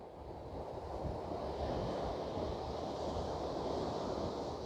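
Calm sea with gentle waves washing in, a steady broad surf wash with light wind rumble, continuous and fairly even throughout, no voices.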